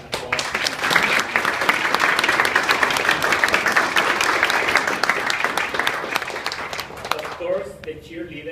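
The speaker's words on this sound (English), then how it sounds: "I would like to ask you to give her an applause." Loud, dense audience applause fills the room for about seven seconds, then fades as a voice begins speaking near the end.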